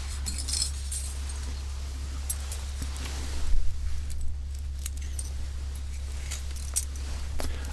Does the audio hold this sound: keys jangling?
yes